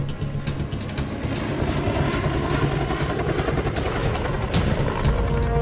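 Deep rhythmic thudding of a UH-1 Huey helicopter's rotor blades with a low engine drone, steady and fairly close throughout, no voices heard.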